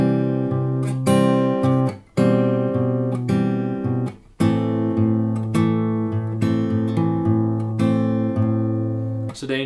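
Acoustic guitar riff from Clairo's Blouse played without the hammer-on, close and clear, repeated plucked notes in a steady gentle rhythm with brief breaks between phrases.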